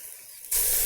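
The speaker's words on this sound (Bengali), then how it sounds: "মশলাটা ভাজা ভাজা হয়ে গেছে।" Spices fry in a pan for a vegetarian dish. Midway through, a loud, sharp hiss bursts in and then holds steady and close.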